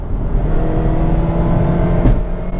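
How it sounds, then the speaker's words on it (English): A tuned Saab car accelerates hard in third gear from about 55 mph, a steady loud engine drone and whir close by that holds without a break. "We'll do a low third gear pull here from about 55 miles an hour."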